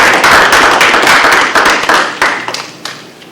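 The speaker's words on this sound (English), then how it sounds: "a round of applause" Applause from the audience at a school board meeting, a dense burst of clapping that thins into a few scattered claps before stopping.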